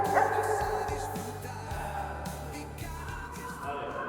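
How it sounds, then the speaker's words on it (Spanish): A dog barks at a toy in short, repeated yips and barks at close range, with faint room noise around them. "tu perro vea el juguete y de primeras ya espontáneamente se ponga a ladrar"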